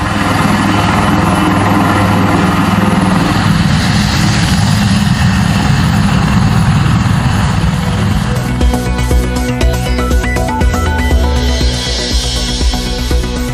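A relief helicopter flying from Madurai with food supplies during flood rescue work gives a loud, steady engine and rotor drone throughout, rising into a harsher rhythmic chop in the second half.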